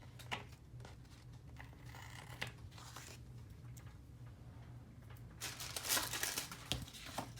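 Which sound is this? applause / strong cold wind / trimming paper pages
trimming paper pages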